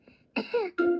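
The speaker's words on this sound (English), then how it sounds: "Oh dear, Pedro has a cough." A cartoon pony character named Pedro coughs in a children's animated show, three short throaty coughs in quick succession, clear and close with no talk.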